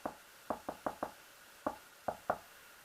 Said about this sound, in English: suddenly there came a tapping, as of some one gently rapping